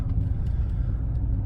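A lifted truck's engine rumbles low and steady close by while it backs out along a street crowded with parked cars, with no one talking.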